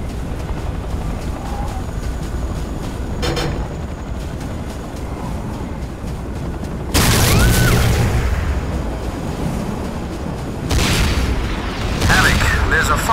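Explosions and gunfire in the video game C&C Renegade, heavy booming bursts breaking out over a steady rumbling battle background, with a loud blast near the middle and another toward the end.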